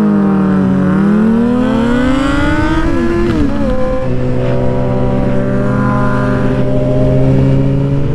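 A car engine revs hard as if to race, a loud close pitch climbing and falling through gear changes, then settling into a steady high drone with no talk.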